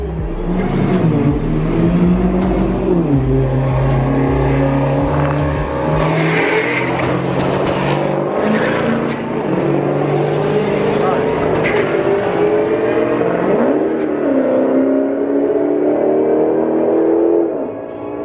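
Cars road racing make loud engine roars that rise and fall with acceleration and passes, going on over continuous excited talk from people nearby.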